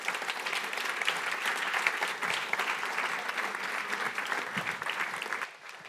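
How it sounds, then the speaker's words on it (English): Warm audience applause at a tech meetup evening talk, a dense, steady burst of clapping from a crowd that carries evenly, then thins and drops off abruptly near the end. "Warm applause."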